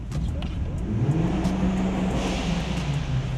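A Toyota GR Corolla's turbocharged engine, fitted with a new intercooler, revs loudly with a steady low growl, rising and falling, and a faint whooshing turbo hiss above it; continuous and close.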